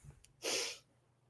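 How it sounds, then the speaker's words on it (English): A single short, breathy cough burst, close and fairly soft, with quiet room tone before and after. "That was a bit of a productive cough"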